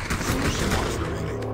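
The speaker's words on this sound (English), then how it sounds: "now we got a team north shooting at us" Bursts of rapid gunfire from an opposing team in a shooter video game crackle in a dense, loud volley that thins out after about a second.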